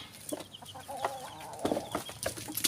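Chickens and chicks cluck and peep on a farm after being given coconut leaves, with repeated short calls close by over a steady rustling background.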